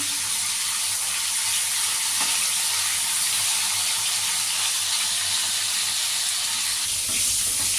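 Tengra fish frying in hot oil, a loud, steady sizzle and hiss filling the whole stretch with no talk over it.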